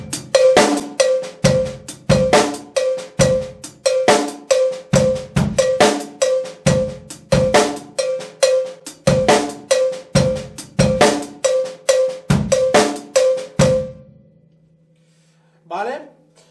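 A cowbell played on a drum kit taps out a steady, sharp rhythmic pattern with kick drum accents, loud and close for about fourteen seconds, then a brief voice near the end.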